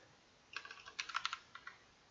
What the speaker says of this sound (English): So now let's type in that address.